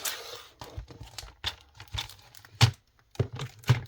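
Paper being cut for a junk journal, a series of close, crisp snipping and crinkling sounds in irregular bursts with short quiet gaps.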